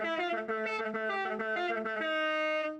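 Custom car horn in the racing game Forza Horizon 5 playing the Doom E1M1 theme: a steady, buzzy synthetic melody of quick repeated notes, fairly quiet and continuous.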